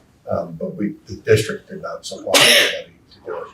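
A single sharp sneeze bursts out during a school district committee meeting, briefly cutting across a man's ongoing speech.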